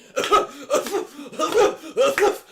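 A person imitates coughing with four harsh, voiced bursts in a row, close and fairly loud, each a short rasping hack.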